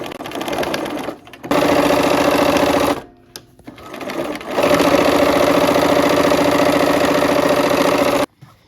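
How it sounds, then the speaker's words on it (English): A sewing machine stitches a Wild Goose Chase quilt block seam in two loud, steady runs of rapid needle chatter, separated by brief pauses and cut off sharply at the end. "I'm going to sew with the points on the top."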